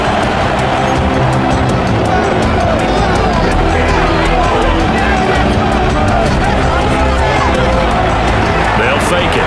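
A dense stadium crowd roar from a Madden NFL football game fills the scene continuously and loudly, a steady wash of cheering and hubbub with speech running over it.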